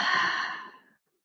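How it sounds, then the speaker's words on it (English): A single deep, slow exhale during a guided breathing exercise, breathy and close, fading out over about a second into silence. "and now breathing it out."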